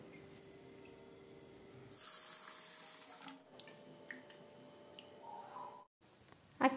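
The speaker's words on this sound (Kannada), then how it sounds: "ಈಗ ಎರಡನ್ನು ಕೂಡ ನೀರು ಹಾಕಿ 2-3 ಸರ್ತಿ ಚೆನ್ನಾಗಿ ತೊಳೆಯಬೇಕು." Water is poured over urad dal and fenugreek seeds in a kitchen vessel to wash them, giving a short splashing burst followed by quieter swishing and small clinks.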